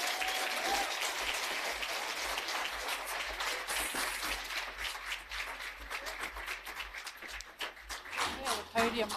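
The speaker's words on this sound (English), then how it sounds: "give Hein a massive round of applause as he comes up to address us" Warm applause from an audience at a talk as the speaker comes up to the podium, steady at first, then thinning into scattered claps with a voice briefly heard.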